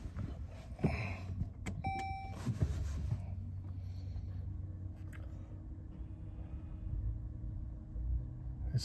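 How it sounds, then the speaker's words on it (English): A 2018 Chrysler Pacifica that had trouble starting fires up: a couple of dash chimes ring out, then a low engine rumble settles into a steady idle, heard from nearby. "Now, I'm gonna go back to the front and start the car."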